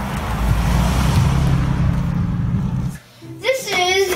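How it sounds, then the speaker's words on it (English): Purolator delivery truck rolling past on a street, a loud, steady engine and tyre rumble for about three seconds that then drops away, followed by a brief voice. "here comes a Purolator truck"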